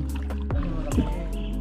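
A small boat glides on water with a low engine or paddle drone and faint splashing; muffled voices murmur in the background.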